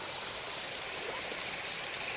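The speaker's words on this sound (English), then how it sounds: "Here's a water source for today." A mountain stream on the Appalachian Trail runs right over the path and down the slope, making a faint, steady, hissing rush of flowing water with no break.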